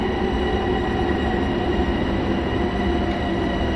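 A train in Train Sim World 3 rolls in and stops with a steady, low rumble of wheels and carriage noise, continuous and moderately loud throughout.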